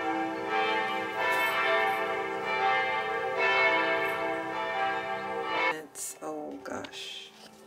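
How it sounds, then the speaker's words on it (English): Church bells in Germany peal in a steady, sustained ringing for most of the stretch, with overlapping tones. Near the end the ringing fades and voices come in. "I don't know when the bells are gonna stop"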